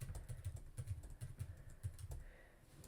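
Quick bursts of keystrokes on a computer keyboard, a close, soft clatter of rapid taps with short pauses between runs, ending in a brief lull.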